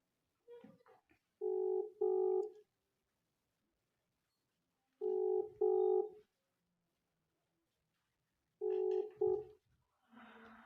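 A WhatsApp call rings out on a phone, repeating a paired electronic ringback tone three times with long silent gaps between bursts, clear and alone.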